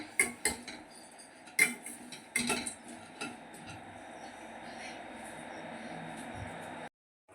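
Roasted gram (pottukadalai) being dry-roasted and stirred in a pan: a few sharp metal clinks and scrapes at first, then a steady, faint rustling hiss, close and without talk.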